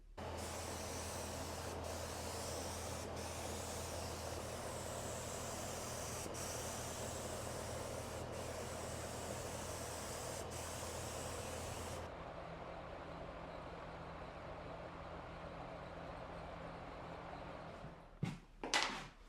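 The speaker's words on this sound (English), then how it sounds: "So now let's go ahead and spray this" Lacquer finish sprayed onto a wood veneer furniture piece with contact-cemented veneer: a loud, steady, close hiss of spray with a few short interruptions, then a quieter tail and a couple of clunks at the end, with no talk.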